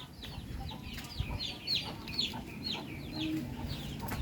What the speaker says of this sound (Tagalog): ang aking mga sisiw, inahin, nandyan din ang tandang